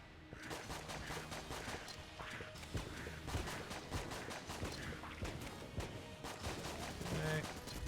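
Rapid, dense gunfire bursts from the Gatling gun in Enter the Gungeon, steady repeated shots at moderate level throughout, mixed with game effects and occasional talking over it.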